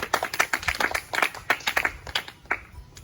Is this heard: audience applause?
yes